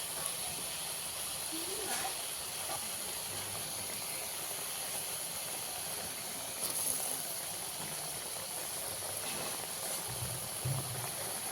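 Coconut milk gravy for prawn malai curry bubbling at a boil in the pot, a soft continuous hiss and simmer with faint bubbling, no voices over it.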